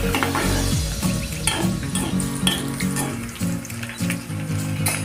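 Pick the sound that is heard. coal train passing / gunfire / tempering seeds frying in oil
tempering seeds frying in oil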